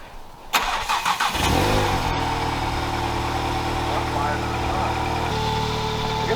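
A VW MK7 GTI fitted with a new CTS downpipe cranks and fires up, then flares briefly and settles into a steady, burbling idle. It is heard close and loud, with no voices over it.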